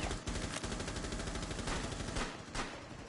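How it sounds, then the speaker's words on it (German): Rapid automatic gunfire from the Rainbow Six Siege video game, a loud sustained burst of closely spaced shots that breaks off briefly near the end and then resumes. "Ich schieße die ganze Zeit drauf."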